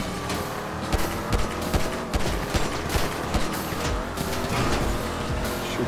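Gunfire in the video game GTA 5 during a car escape, with rapid, loud shots cracking repeatedly over roaring engines and tire noise throughout.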